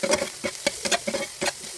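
Fried onions with salt and turmeric are stirred in a pan, a quick run of scraping strokes and soft sizzle in uneven rhythm, near and clear with no voices.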